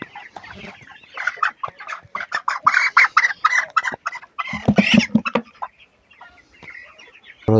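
Broiler chickens, about 27 days old, cluck and squawk in a run of close, busy calls while being weighed, with a sharp louder burst near the middle and quieter clucking after.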